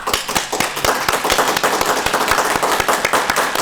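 A comic-con panel crowd claps loudly and steadily, many hands producing a sharp, continuous patter of applause throughout.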